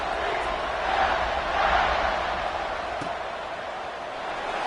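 A football stadium crowd roars before kickoff at a West Virginia versus UCF game, a broad sustained cheer that swells briefly and then settles into a steady din.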